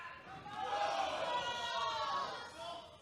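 A wrestling crowd cheers through a match, a steady swell of voices and chatter that rises and then eases, fairly distant and filling the whole moment without a clear single shout.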